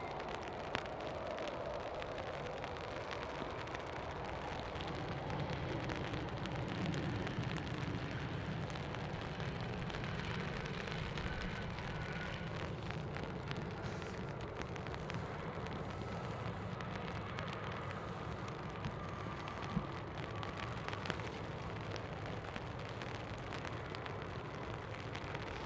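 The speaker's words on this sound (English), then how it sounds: "Rain very heavy behind me now" Heavy rain at Dublin Airport makes a faint, steady broadband hiss that runs unbroken for the whole stretch, distant and without speech.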